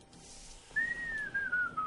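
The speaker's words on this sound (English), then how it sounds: "I probably shouldn't whistle." A person whistles a single long tone that glides slowly downward, fairly close and clear over faint background noise.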